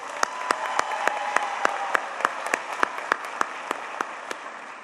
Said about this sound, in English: Let's give one more round of applause to Mahela Gutu.